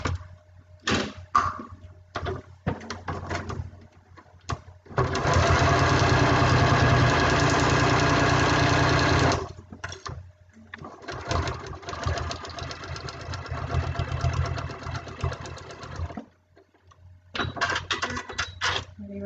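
A sewing machine stitches a joining seam on a foundation-pieced patchwork pincushion in several bursts: short stop-start runs, one long steady stretch, then more quick runs, close and fairly quiet.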